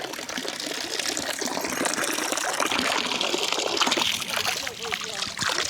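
Water gushes and splashes steadily as a melon is rinsed outdoors in a remote mountain village, with people talking over the continuous running flow.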